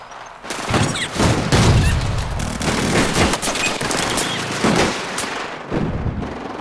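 Battlefield 4 gunfire in a heavy firefight: rapid, loud bursts of automatic fire with booming shots, sustained and close, with no talking.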